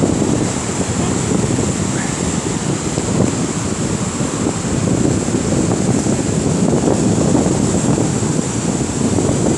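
Heavy surf pounds and churns continuously close by on a steep beach during a fishing derby, a loud unbroken roar of breaking waves and white foam mixed with wind buffeting.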